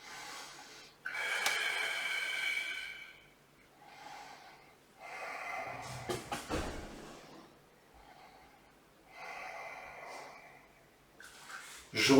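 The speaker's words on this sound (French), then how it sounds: "J'inspire, 3 respirations." Slow, audible inhales and exhales during a floor Pilates class without equipment, three long airy breaths close to the mic with quiet pauses between them and no talking.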